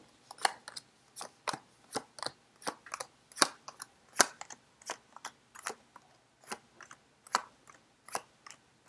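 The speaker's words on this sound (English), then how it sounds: "I'm going to cut the cards into three" A rapid series of crisp, papery snaps and clicks as a deck of tarot cards is cut, close and fairly quiet, with no talking.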